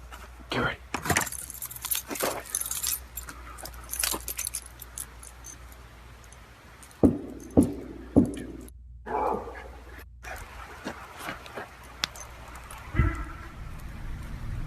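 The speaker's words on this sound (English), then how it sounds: "Get my keys." Keys jangle and clatter in bursts at night at a woodland campsite, mixed with sharp knocks, shuffling and a dog's faint whimpers, while people talk tensely nearby.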